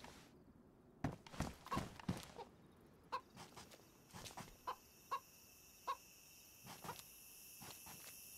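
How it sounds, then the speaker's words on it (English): Chicken clucks inside the video game DayZ, a handful of short, moderately faint calls spaced irregularly over a quiet background, with a few soft thunks near the start. "That's the chicken."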